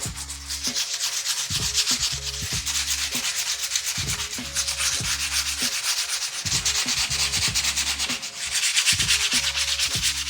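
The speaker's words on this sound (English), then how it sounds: "And now I'm done sanding this whole thing with 100 grit." A handheld electric sander works 100 grit sandpaper over wood, over countersunk screws and filler, a steady loud rasping drone with rhythmic surges and passes and no voices.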